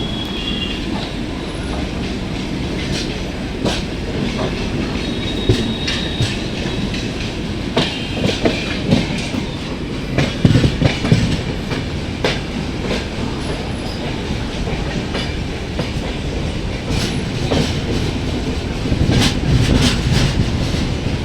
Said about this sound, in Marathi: जवळपास 20 मिनिटाच्या डिलेनंतर ट्रेन सुटलेली आहे